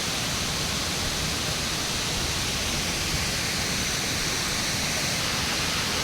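Jhari waterfall among coffee estates in Chikmagalur, heard from a short distance as a steady, broad roar of falling water that stays constant and unbroken throughout.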